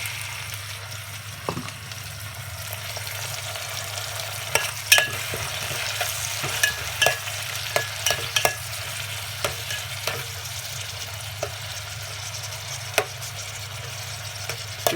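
Pinakbet vegetables with tomato stirred and sautéed in a pan, with a steady low sizzle and irregular scraping clicks of a utensil against the pan throughout, close up and without talk.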